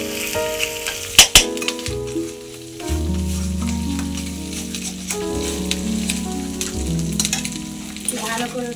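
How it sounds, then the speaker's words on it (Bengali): Spice mixture frying in a pan, an even sizzle with a few sharp clinks of a utensil early on, while steady tonal hums and noise run underneath throughout. "আপনারা দেখতে পাচ্ছেন এখন এটা ভাজা হচ্ছে, একটু ভালো করে ভেজে নিতে হবে"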